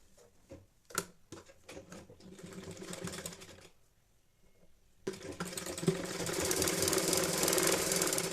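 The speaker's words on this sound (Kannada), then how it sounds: "ಇವಾಗ ನೋಡಿ ಇಲ್ಲಿಂದ ಸ್ಟಿಚ್ ಹಾಕಲಿಕ್ಕೆ ಸ್ಟಾರ್ಟ್ ಮಾಡೋಣ" A sewing machine stitches a baby's cloth nappy with a rapid, steady mechanical chatter. It starts in short bursts, pauses briefly, then runs loud and continuous.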